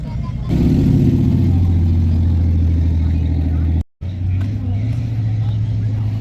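Engine of a vintage car at an outdoor car show, a low steady rumble that holds, drops out briefly, then returns with a slight rise in pitch as the car moves along.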